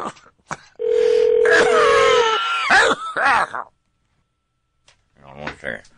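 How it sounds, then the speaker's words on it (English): A telephone number is dialed, with a steady phone tone and short dialing beeps sounding up close, and voices talking around them. "Dial her up."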